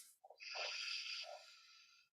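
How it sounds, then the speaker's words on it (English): A single person clears their throat in a short, breathy, rasping burst of about two seconds, close and fairly quiet, with no talking. "Let me clear my throat."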